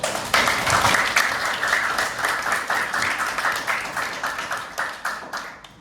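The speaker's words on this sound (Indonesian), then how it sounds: "Supaya kalian semangat, tepuk tangan dulu." A school class claps in a burst of applause, loud at first and then thinning into scattered, uneven claps as it tapers off.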